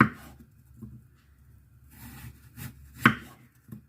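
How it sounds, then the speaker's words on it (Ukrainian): A knife slices an apple into thin rings on a board in a few scattered strokes, with soft crunches and one sharper chop. "а тепер нарізаю тонесенькими-тонесенькими такими пластиночками"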